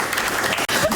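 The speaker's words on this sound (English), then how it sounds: "guys deserve a bigger round of applause." Audience applause fills the whole short moment at a talk, a dense, steady clatter of many hands with a brief gap near the end and no voices over it.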